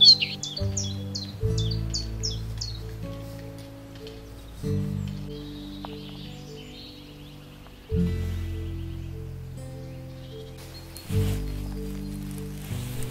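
A pied flycatcher sings a quick series of high, repeated chirping notes near the start, with a sustained musical drone continuing underneath and afterward.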